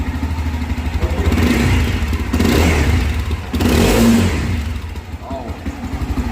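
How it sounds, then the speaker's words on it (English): A Mahindra Mojo 300 BS6 motorcycle with a single silencer revs up close and loud in three rising blips, settling back to a throbbing idle between each one. "let's just listen the exhaust note of this bike."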